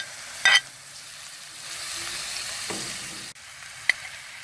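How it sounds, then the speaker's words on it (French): Thinly sliced onions hit golden garlic in a pot over a wood fire, sending up a loud, even sizzle, with a scrape of stirring at the start and a couple of sharp clinks, no talking. "on ajoute les 2 gros oignons préalablement émincés qu'on fait à leur tour roussir"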